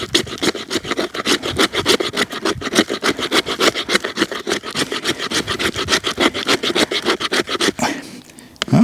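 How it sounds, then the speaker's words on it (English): A Hultafors OK4 knife spine scrapes fatwood in fast, even strokes, a close, loud raspy scratching that runs steadily for several seconds before stopping. "Do a little fat wood scraping."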